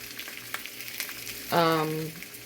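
Food sizzles gently in a cast iron pan on low heat, a soft continuous crackle under a brief spoken voice in the middle.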